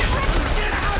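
Rapid gunfire from the video game Dead Space 3, a dense, loud burst of shots filling a brief moment.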